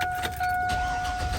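A 1999–2002 GM truck engine, recently converted to electric cooling fans, fires up and settles into a steady running drone close by, with no talking.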